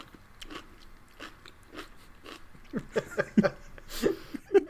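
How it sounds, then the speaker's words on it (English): Close, crisp crunching as something is bitten and chewed, a regular rhythm of brittle crackles growing louder toward the end. "We can hear you crunching. Could totally hear you chewing, Cass."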